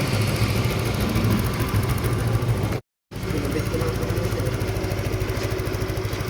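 A Rusi Flex 125i scooter engine idles steadily after a repair, a loud, close, continuous rumble with one brief dropout partway through.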